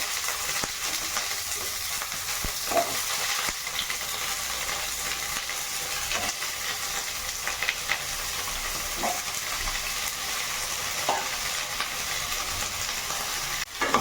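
Potatoes frying in hot oil for a Kashmiri chicken masala, a loud, steady, dense sizzle with faint crackles throughout, no voices.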